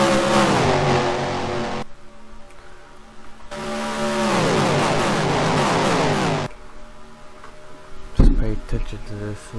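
Stock cars race four wide at Talladega in an online racing game, engines droning loud and steady with pitch sweeps as cars surge and pass, a brief gap in the roar, then a sharp impact-like burst near the end.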